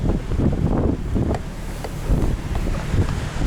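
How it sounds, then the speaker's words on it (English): Strong wind buffets the microphone outdoors at night, with a low ocean roar and surf rumbling steadily underneath. "You can hear the ocean in the background."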